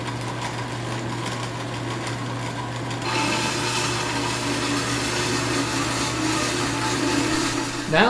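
Vertical bandsaw cutting sheet metal panels for a catch can, a droning motor hum that turns harsher and brighter once the blade bites in, grinding steadily up close before a sharp rise near the end.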